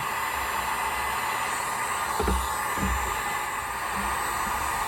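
A heat gun blows hot air on PVC pipe around a nail while building a garden greenhouse frame, a constant loud airy roar with a couple of faint low bumps partway through.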